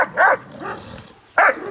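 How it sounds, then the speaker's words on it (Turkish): A dog barks in two bursts, two quick barks close together and another after a pause, loud and near, with no talk over it. "Bunun havlaması birazcık daha korkuyorum der gibi havlıyor ya."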